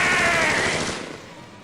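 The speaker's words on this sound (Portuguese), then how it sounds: "Após uma troca de tiro insana, ele finalmente cai" Gunfire shootout in the video game BioShock: a loud, dense burst of rapid shots that gradually thins and fades over under two seconds.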